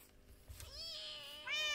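A cat in the Minecraft video game gives two distinct meows, the second higher and brighter, heard close and clear over a faint low hum, with no talking.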